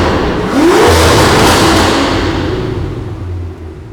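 A 2023 Aston Martin V12 Vantage fitted with a custom exhaust gives a single loud rev that climbs quickly, then settles into a rumbling idle that fades slightly toward the end.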